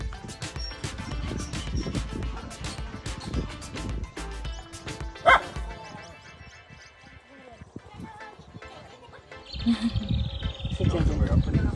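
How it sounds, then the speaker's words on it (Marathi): House dogs at a farm home bark at unfamiliar visitors: repeated sharp barks and yips against a busy, noisy background, with some voices mixed in. "आम्हाला ओळखत नसल्यामुळे आमच्या घरचे डॉग आमच्या नावच भुकत आहेत."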